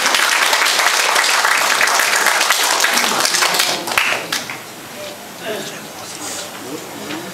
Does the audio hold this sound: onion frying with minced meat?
no